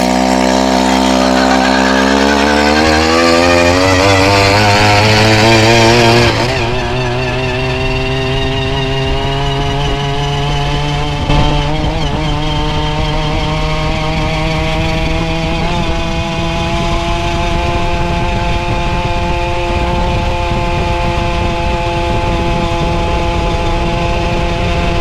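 Bicycle fitted with an earth auger engine revving hard, its small two-stroke whine climbing steeply in pitch, then holding a loud, steady buzzing drone for a long stretch with no talking.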